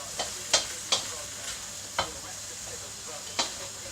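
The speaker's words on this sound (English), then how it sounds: "Give that a bit of a stir around." Mushrooms, celery and other vegetables are stirred in a frying pan under a soft, steady sizzle, with about six sharp scraping strokes of the utensil spaced irregularly; no speech.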